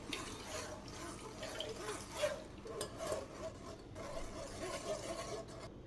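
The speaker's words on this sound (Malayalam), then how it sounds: "നമ്മൾ ഫുള്ള് തേങ്ങാപ്പാൽ അരിച്ചെടുത്തിട്ടുണ്ട്." Coconut milk strained through a sieve for tender coconut pudding, a faint trickle and light splashing of liquid with soft drips, quiet and close with no speech.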